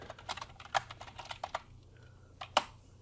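Keys clatter on a computer keyboard in a quick run of taps, a short pause, then one more firm keystroke, close and fairly quiet.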